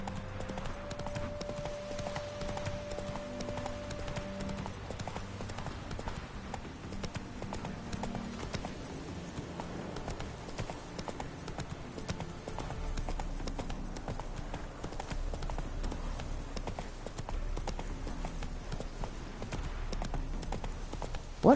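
Geralt's horse Roach galloping in The Witcher 3, a steady, rapid clip-clop of hooves running without a break, close and even in level, with game music underneath.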